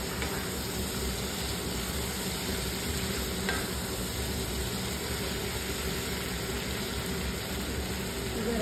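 Food fries in a pan as tomato sauce goes in, a steady close sizzle and bubbling crackle running unbroken and fairly loud throughout.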